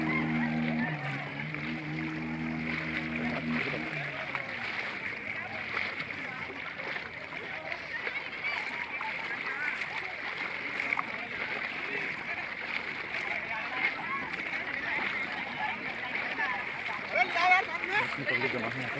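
A swollen river rushes after heavy rain, a broad steady roar of churning water at moderate distance, with a low motor hum at the start and people talking over it.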